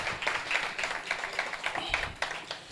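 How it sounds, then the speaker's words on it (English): An audience at an indoor business workshop applauds the exhibitors: a steady patter of many hands clapping, moderately loud and continuous throughout. "Give the amazing exhibitors a round of applause."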